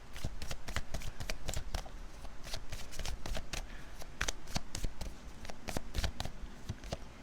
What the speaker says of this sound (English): So let's get some animal medicine cards here.